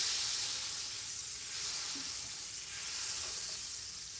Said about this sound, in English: Melt your butter.